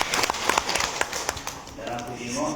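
Scattered clapping from an audience at a teachers' gathering in South Sumatra, a loose burst of hand claps with people talking over it before it dies down.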